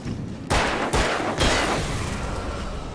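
Three quick gunshots ring out in the Alan Wake video game, sharp loud cracks about half a second apart, each trailing into a booming echo that lingers and fades.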